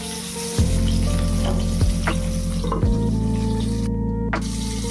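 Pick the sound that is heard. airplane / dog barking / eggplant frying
eggplant frying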